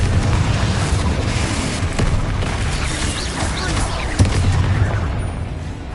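Booming spell blasts and fiery bursts from Hogwarts Legacy combat, fire and blasting curses going off in a dense, continuous barrage with a sharp impact near the four-second mark and a low rumble throughout.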